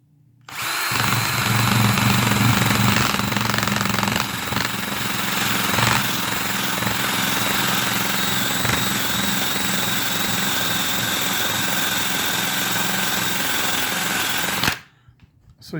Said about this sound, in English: I really need two hands to run this drill, but I'll show you how this kind of works.